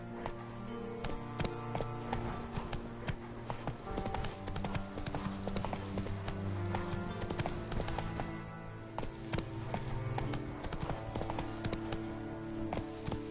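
Roach the horse gallops in The Witcher video game, with fast, continuous rhythmic hoofbeats, loud and close, over sustained background game music and no talk.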